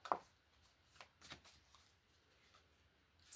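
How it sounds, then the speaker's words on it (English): A deck of tarot cards is shuffled up close, with a quick riffle of crisp flicks and slaps early on, then faint rustling handling of the cards in a quiet room. "I'm gonna have to give these a serious shuffle."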